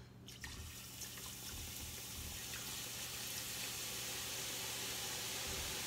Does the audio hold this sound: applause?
no